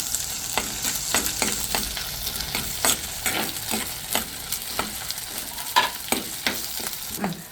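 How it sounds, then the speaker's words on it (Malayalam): Crushed ginger, garlic and green chillies frying in a pan for a Kerala clam meat thoran, with a steady close sizzle broken by repeated scraping strokes of a spoon being stirred through them. "ഇനി ഇതാ ഞാൻ എടുത്തു വെച്ചിരുന്ന ഇഞ്ചി വെളുത്തുള്ളി ചതച്ചതും കൂടി ഇട്ട് ഇളക്കുകയാണ്"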